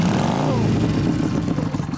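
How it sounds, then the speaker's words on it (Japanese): A 2008 Honda CBR1000RR Fireblade with an aftermarket exhaust revs loudly and close by, a rough throaty roar that rises and settles, with a voice briefly heard alongside. "エンジンを聞かせてもらえるかな"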